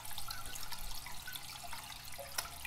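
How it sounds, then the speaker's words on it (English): Water trickles steadily into a toilet tank through a flush valve stuck open by a caught chain, a faint continuous running with small drips, close up and with no talk. "So there's water running here, and that's because this is stuck open."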